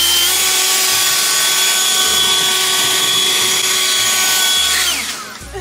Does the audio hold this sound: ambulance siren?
no